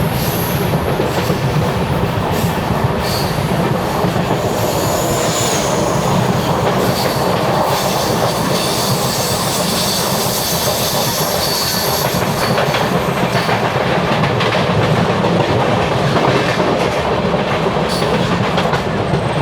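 A passenger train rolls into Thrissur station toward platform 2, producing a loud, continuous rumble with rhythmic clickety-clack from the wheels and occasional squeals, heard up close from on board.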